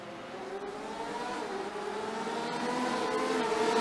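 Porsche race cars pulling away together at the start of a sim race at Barber Motorsports Park, a steady blended engine drone that slowly rises in pitch and volume, with no talk.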